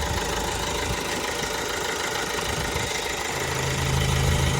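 An Opel Astra K engine idles steadily up close after warming up, a continuous low rumble with a dense mechanical clatter, settling into a slightly deeper hum near the end.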